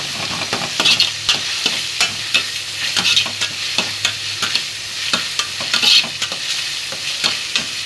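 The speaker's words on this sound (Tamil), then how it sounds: "ஓரளவுக்கு நல்லா தக்காளி எல்லாம் வதங்குது." Tomatoes sauté loudly in a pan, sizzling under repeated scraping stirs that come in a quick, fairly regular rhythm, close up and with no voices.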